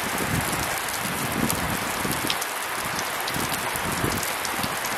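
Heavy winter-spring downpour drums steadily on a shelter roof beside Lake Niskie, a dense continuous hiss of raindrops with no pauses, close and even throughout.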